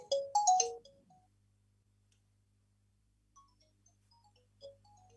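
A phone ringtone plays a brief melodic jingle at the start, then fades into near silence broken by a couple of faint electronic blips.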